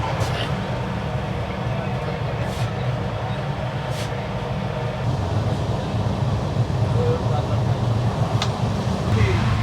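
The Kumbha Express from Howrah to Haridwar runs steadily on its way into Asansol Junction, giving a continuous low rumble of moving rail cars, heard as a constant wash of noise with no talk.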